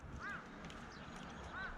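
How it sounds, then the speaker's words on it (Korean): Two short, harsh caws from a crow, one near the start and one near the end, over steady outdoor background noise. "까마귀가 울고"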